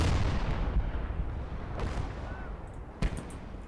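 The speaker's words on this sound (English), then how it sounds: "Oh, that was a mortar shot." Mortar fire in the Call to Arms: Gates of Hell war game, a dull rumbling boom followed by sharper distant impacts amid continuous battlefield noise.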